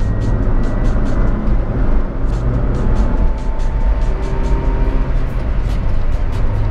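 A manual 2022 Toyota Calya accelerates on a toll road, heard from inside as a loud, steady blend of engine drone and road and wind rumble.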